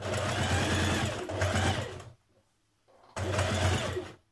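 A sewing machine back tacks and stitches a seam on jeans in two loud, steady runs of rapid mechanical whirring, with a short quiet pause between them.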